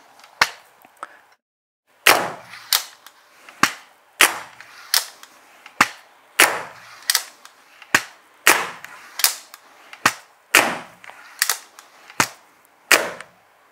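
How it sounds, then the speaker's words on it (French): Rapid repeated shots from an Ek Archery Whipshot repeating compound bow, about a dozen sharp, loud snaps at a steady quick rhythm, each a close crack with a brief decay, alone with no talk. "j'adore la vitesse à laquelle on peut tirer avec cet arc"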